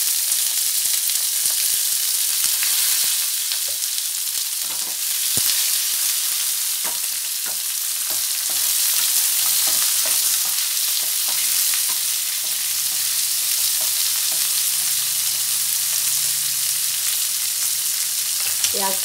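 Onions frying in ghee for a restaurant-style shahi paneer masala, a steady loud sizzle that runs without a break, with scattered scrapes and taps of stirring throughout.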